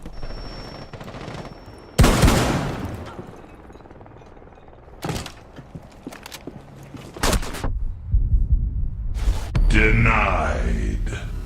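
Shotgun in Rainbow Six Siege fired again and again: several loud, sharp blasts arrive in uneven bursts with quieter gaps between, mixed with game noise and groans.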